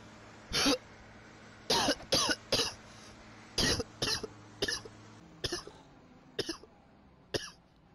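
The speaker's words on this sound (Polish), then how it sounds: "przepraszam was, ale będę niestety kaszlał" A person coughs repeatedly at close range, about a dozen sharp bursts in uneven clusters that gradually grow fainter and more spaced out, with no talking in between.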